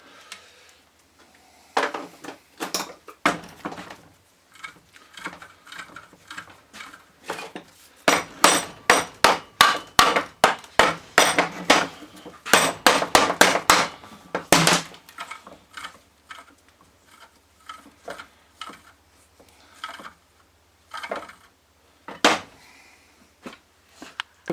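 Repeated metal hammer blows on a Ford Transit alternator bearing ring out in irregular bursts, some quick runs of strikes and scattered single hits, fairly close and loud.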